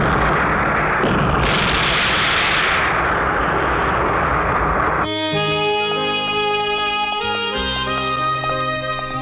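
Loud explosion blowing up a hideout in a Hindi action film, a broad rumbling roar with a sharp burst near the start, cut off after about five seconds by a dramatic orchestral music cue.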